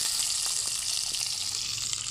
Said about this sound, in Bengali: এর মধ্যে এবার আমরা ক্যাপসিকামগুলো দিয়ে দেবো।